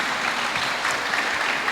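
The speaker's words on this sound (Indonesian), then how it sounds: "Tepuk tangan dulu untuk Rasul." A congregation at a church youth spiritual class claps for the apostle, a dense, even burst of applause filling the room briefly without talk over it.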